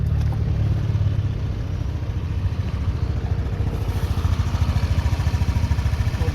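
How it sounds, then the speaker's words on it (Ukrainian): A Honda Dio 110 scooter engine sputters to life on the kick-starter and settles into a fast, steady idle, with a rhythmic low putter and some mechanical clatter. "перевіримо, як заводиться з кікстартера"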